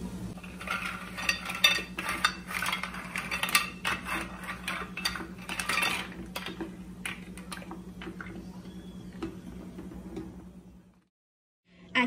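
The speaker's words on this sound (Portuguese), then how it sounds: "E vou colocar o macarrão conchinha" Dry shell pasta drops into a cooking pot with salted water, a burst of light clattering ticks and rattles over a low hum that thins out and falls quiet near the end.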